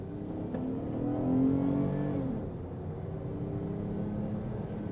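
A Volvo T6 Executive with a twin-turbo straight-six, 270 horsepower and front-wheel drive, accelerates from inside the cabin, its engine note rising smoothly to a loud peak, then easing back to a steady hum.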